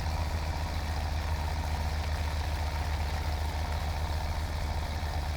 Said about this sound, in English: Yeah, even with this tractor, it's starting to bog down a bit.